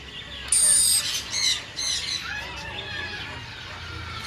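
A pet macaw in a home aviary lets out a few loud, harsh squawks in short bursts near the start, then quieter chattering and faint background noise follow.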